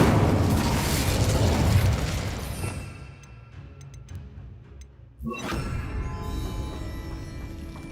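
Incendio fire spell cast in Hogwarts Legacy: a loud roaring, crackling burst of flame that swells, fades into a quieter lull with faint chimes, then flares again with a sharp rush, no talk.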